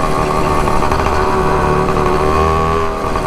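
A motorized 29-inch-wheel bicycle's small engine runs loud and close, a steady, buzzy drone with a constant throbbing rhythm and no pause throughout.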